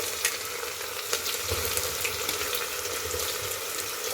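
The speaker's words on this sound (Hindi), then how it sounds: "इसे गोल्डन ब्राउन होने तक हमें भून लेना है" Sliced onions and a green chili fry in hot oil for a home-style chana dal tadka, giving a steady, fairly quiet sizzle with a few faint clicks and a low rumble partway through.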